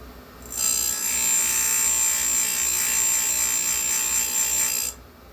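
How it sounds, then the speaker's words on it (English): A grinder sharpens a chainsaw chain, giving a steady, loud, high-pitched whine that starts abruptly, holds for about four seconds without a break, then cuts off, heard close with no voices. "just push the grinder over to it"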